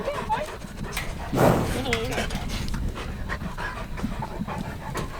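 Dogs pant rapidly nearby on a bison ranch, a quick breathy rhythm with a brief louder burst partway through and a voice talking over it.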